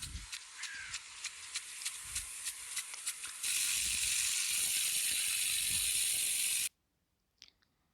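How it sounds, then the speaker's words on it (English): Sprinklers spraying water onto plants give a steady broadband hiss, first with a rhythmic ticking pulse from a rotating head, then a louder continuous spray that cuts off abruptly, followed by near silence. "This method make use of sprinklers of different sizes that spray water directly on plants."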